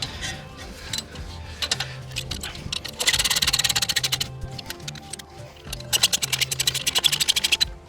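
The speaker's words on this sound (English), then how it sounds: "let's go back in with our 7mm Allen bit and tighten up these two caliper slide bolts" Rapid ratcheting clicks from a tool driving a 7mm Allen bit, tightening caliper slide bolts on a BMW E90 brake, in several fast bursts close up.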